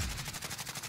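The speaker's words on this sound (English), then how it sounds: "There's another team shooting him from super." Rapid automatic gunfire in the Warzone video game, a quick burst of evenly spaced shots, loud and close, lasting under a second.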